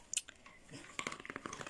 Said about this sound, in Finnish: Ja tuo rouskutus, mikä kuuluu, niin koira syö napuja tuossa vieressä.